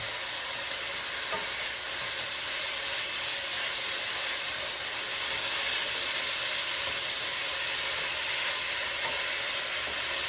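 Beef and bell peppers sizzle over high heat in a pan, a steady, even hiss of frying that holds at moderate loudness throughout with no voices.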